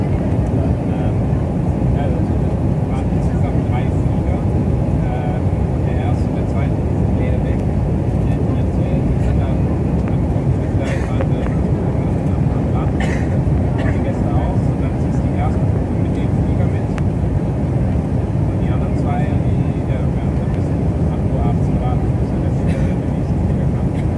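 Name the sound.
airplane on final descent and landing at Ushuaia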